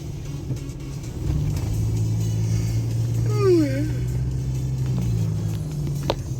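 A car on the road to Kyiv, its engine rumbling steadily at close range throughout, with a brief rising whistle-like tone midway and a short click near the end.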